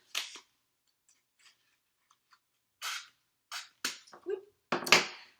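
Scissors snip through an egg carton in a handful of short, crisp cuts, close and quiet with pauses of silence between them.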